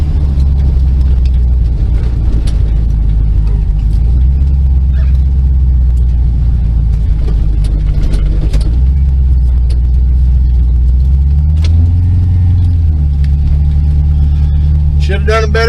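A nitrous-fed LSX C10 pickup on a drag strip, its engine roaring loud and constant at close range, with the pitch surging as the tires spin, ending in a brief rising whine.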